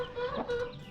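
A hen clucking close by in a farmyard, a short run of soft, steady clucks with a brief louder rise partway through.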